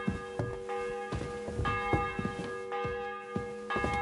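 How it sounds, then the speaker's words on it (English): Church bell tolling in the game Kingdom Come: Deliverance II, repeated rich metallic strikes with long ringing overtones, recurring roughly every half second to second over a quiet background. "The 11th toll of the bell."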